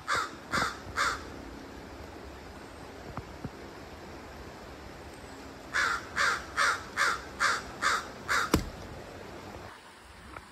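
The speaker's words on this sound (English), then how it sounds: "They were having a little discussion, and all of that crowing that you hear, that's not just noise." Ravens calling near their nest on a mountainside: two quick harsh caws open, then a run of about eight loud, evenly spaced croaks near the end, with a faint windy hiss beneath.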